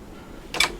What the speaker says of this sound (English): each time we press enter, the printer responds by feeding